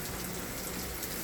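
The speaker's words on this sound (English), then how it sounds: "it's pouring down, raining today" Heavy rain pours down outside, a dense, steady hiss of drops without a break, close and fairly loud, with no voices.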